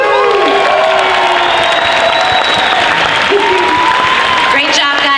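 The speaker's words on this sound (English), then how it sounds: "And one more big round of applause." Big crowd at a Dragon Con costume contest applauding and cheering loudly, with whoops and shouts rising over dense clapping and voices mixed throughout.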